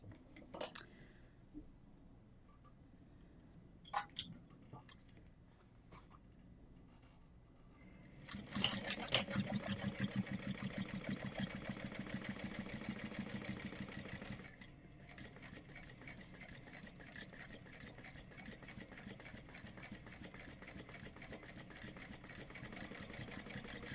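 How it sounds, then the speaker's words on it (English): A sewing machine stitches a dice pouch seam, running in a fast, steady mechanical whir for several seconds after some scattered handling clicks, then continuing more quietly, close up with no talk. "now we're going to sew this together at a 3/8 inch seam allowance"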